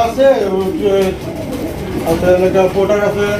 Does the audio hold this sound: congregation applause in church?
no